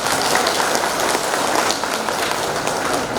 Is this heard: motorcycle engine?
no